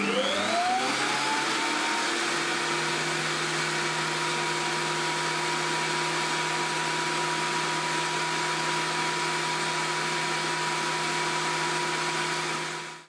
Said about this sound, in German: Zuletzt messen wir den Geräuschpegel der IGM PS33 mit einer Wendeplatten-Spiralmesserwelle.